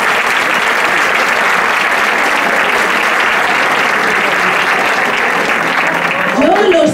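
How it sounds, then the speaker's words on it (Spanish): Event audience rehearsing their applause, loud sustained clapping from a large crowd throughout, with a voice and a brief rising tone breaking in near the end. "tenemos que ensayar primero los aplausos"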